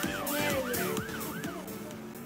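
Rising and falling wail of an ambulance siren in the Roblox video game, several even sweeps repeating over a steady engine-like drone, loud and close, with no talk over it.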